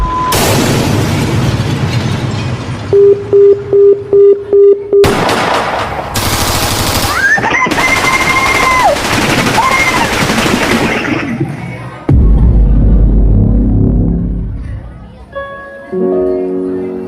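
Rapid bursts of automatic gunfire crackle in a quick string, followed by heavy booms and rumbling blasts, with dramatic tones sounding over the chaos.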